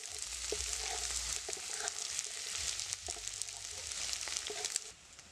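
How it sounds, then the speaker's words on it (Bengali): Eggs and mixed vegetables fry together in a pan for egg chowmein, giving a steady, close sizzle with light stirring scrapes that runs throughout and cuts off near the end. "ডিমের সাথে সবজিগুলো আমার মিক্স করে ভাজতে হবে।"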